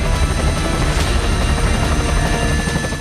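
Firefighting helicopters drop water over burning Palisades hills during the Los Angeles wildfires, a steady loud rotor roar filling the whole stretch without speech.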